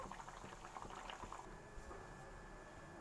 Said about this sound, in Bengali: এটাকে আর একটু ফুটতে দেব।